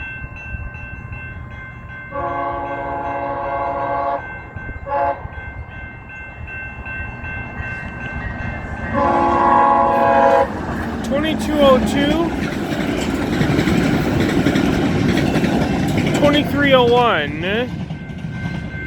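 A train led by CN locomotive 3015 rumbles past at night with two long horn blasts and clattering wheels, steady roar building as the cars roll by, voices faintly audible underneath.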